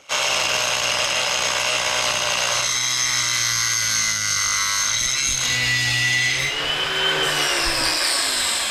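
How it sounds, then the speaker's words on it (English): Angle grinder cutting off bolts during a cottage demolition, a steady high whine that shifts pitch as the disc bites into the metal, loud and continuous with no talk. "we can cut them off with an angle grinder"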